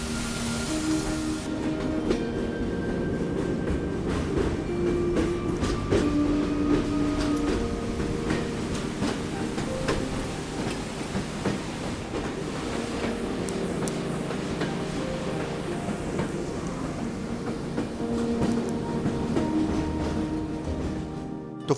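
Train travels on the Shiradi Ghat mountain railway in Karnataka, a steady loud rumble of wheels and carriages with rhythmic clickety-clack and occasional metallic squeal, continuous and close throughout with no talk.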